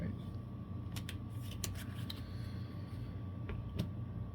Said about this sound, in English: shuffle this card back into the findings deck